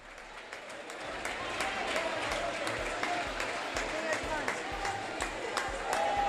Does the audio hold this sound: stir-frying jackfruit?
no